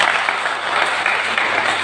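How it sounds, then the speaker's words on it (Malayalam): An audience at a Kerala motivational business meeting claps together in a dense, continuous burst of applause that holds steady for the whole short moment. "ഒന്ന് കൈയടിച്ചേ"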